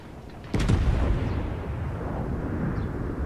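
A warship turret fires in World of Warships, aboard the French battleship Bretagne: one heavy, sudden boom followed by a long, rolling rumble that fades slowly.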